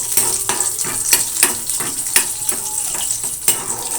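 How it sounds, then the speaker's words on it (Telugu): Cashew nuts fry in a pan, a bright steady sizzle punctuated by regular scraping strokes and taps of a spoon against the metal, close and loud with no talking. "కొంచెం ముందుగా జీడిపప్పుని వేయించుకుంటున్నాను"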